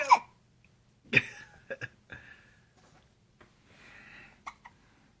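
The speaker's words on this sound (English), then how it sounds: "A little hiccupy?" A baby hiccups several times, small sharp catches spaced about a second apart, close and fairly quiet in a calm room, with a few soft vocal sounds between them.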